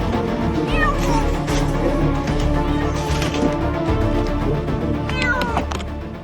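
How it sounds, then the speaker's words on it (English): A scared cat in a broken building meows repeatedly in drawn-out, rising cries over loud, dense background noise and clatter. "Rescuers also found a cat in a broken building."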